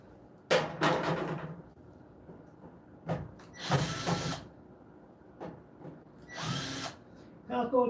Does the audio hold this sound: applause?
no